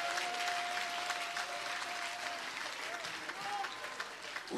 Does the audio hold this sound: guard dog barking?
no